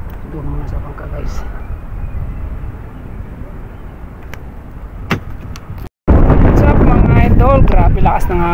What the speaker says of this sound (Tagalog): Grabe lakas ng hangin guys.